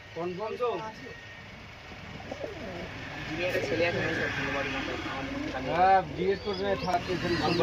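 Breeding pairs of pigeons, a big black hen and an indigo red cock, coo repeatedly in a loft while someone talks over them throughout, the calls rising louder near the end.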